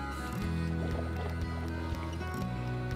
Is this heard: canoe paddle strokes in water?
yes